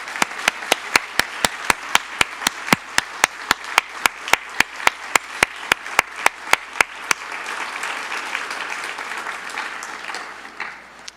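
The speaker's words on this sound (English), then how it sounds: "just take a nice round of applause for your work" Steady, evenly spaced claps ring out at a banquet as an audience applauds the volunteers, building into a full, continuous round of applause that slowly fades away near the end.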